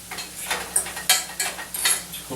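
A fork stirs and scrapes food in a metal pan, giving a string of sharp, close clinks and scrapes in an uneven rhythm with nothing else over it.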